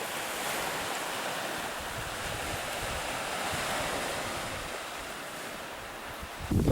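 Pacific Ocean surf rolls in steadily beneath gusting wind that buffets the microphone, a continuous close-up roar with a louder burst of wind at the very end.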